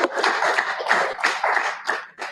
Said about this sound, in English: Please give a round of applause for Mr. Fisare.